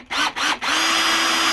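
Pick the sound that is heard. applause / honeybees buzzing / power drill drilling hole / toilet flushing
power drill drilling hole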